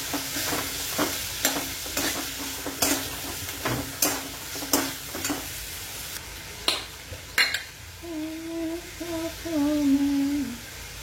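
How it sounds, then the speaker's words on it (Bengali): Spice paste with tomato and salt fries in a pan under a soft sizzle. A spoon scrapes through it in regular strokes, and a brief tonal whine rises near the end. "টমেটো দিয়েছি, একটু নুন দিয়ে দিলাম। মশলাটা ভালো করে একটু কষে নিই"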